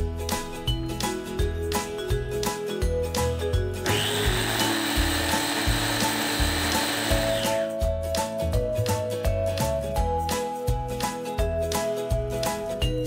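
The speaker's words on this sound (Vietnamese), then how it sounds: "còn đâu thì sẽ xay táo luôn nhé" A Beaba Babycook Duo purees steamed apples in one whirring motor burst of about three and a half seconds, heard over rhythmic background music that plays before and after.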